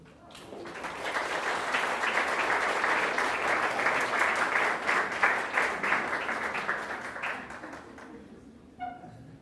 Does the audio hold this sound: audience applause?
yes